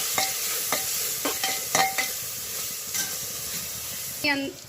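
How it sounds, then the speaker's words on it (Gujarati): Chilli, garam masala and salt stirred into a sizzling pot for kanki khichdi, with a steady hiss of frying and several sharp spoon scrapes against the pot, plus a brief voice near the end. "આ બધું આપણે અંદર એડ કરી દઈશું, એને સરસ રીતે હલાવી દઈશું આપણે"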